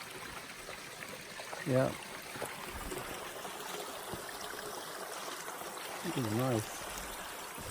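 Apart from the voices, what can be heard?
small forest creek flowing, Olympic National Park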